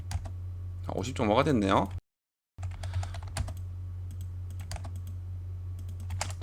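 Keys clatter on a computer keyboard while values are entered in AutoCAD, a sparse series of light, crisp clicks and taps spaced irregularly, following a brief spoken remark and a short silent gap, over a low steady hum.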